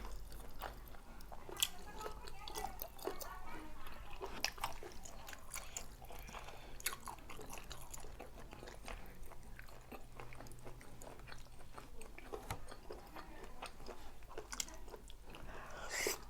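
Stir-fried shrimp and squid in Korean sauce being chewed up close, a steady run of soft wet crunches and squishy bites continuing for about sixteen seconds at low volume.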